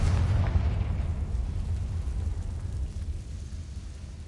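A Confringo fire spell explodes in the video game Hogwarts Legacy, a loud, sustained low rumbling boom that rolls on for several seconds and slowly fades, with no talk over it.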